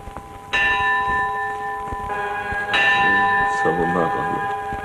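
Large bells ring out with two heavy strikes a couple of seconds apart, each leaving a long shimmering hum that overlaps the next. A faint voice murmurs underneath near the end.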